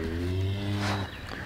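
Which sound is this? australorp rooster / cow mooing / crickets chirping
cow mooing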